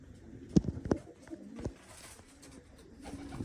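Pigeons coo softly in a loft, a few brief low calls near the start among faint rustling and background murmur.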